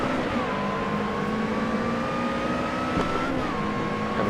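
A car engine in the racing game Assetto Corsa revs steadily and loudly with a smooth, continuous drone, rising gently in pitch through the gears with brief shifts near the start and toward the end; no voices.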